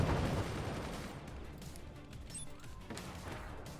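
In the physics-based strategy game Forts, an AP sniper fires amid a dense, rumbling barrage of distant weapon fire and impacts, with a couple of sharper cracks standing out against the continuous battle noise.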